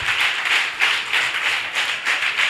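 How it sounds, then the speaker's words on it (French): A church congregation claps continuously in praise at a night service, a dense, steady wash of many hands with slight swells in intensity, fairly close and with no voices over it. "Quelqu'un n'a qu'à applaudir pour le roi des rois."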